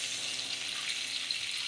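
Beef marinated in soy sauce with garlic and pepper fries in a pan, giving a steady, soft hiss and sizzle with no talking.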